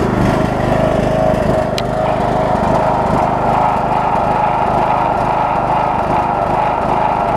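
A Troy-Bilt Bronco riding mower engine runs steadily and loud throughout, a continuous close droning hum with no pauses or change in pace.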